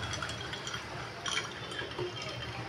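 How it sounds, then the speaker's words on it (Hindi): Water poured into a cooking pot in a home kitchen while vegetable bhaji is being made, a steady liquid fill with faint clinks, continuous and fairly close, with no talk. "देखिए अभी हम इसमें पानी डालेंगे काले कट्टे में"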